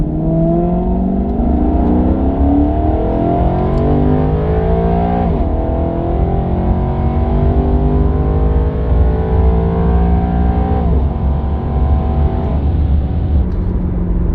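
A Maserati GranTurismo MC engine revs and accelerates through several gear changes, its pitch climbing then dropping with each shift, loud and close.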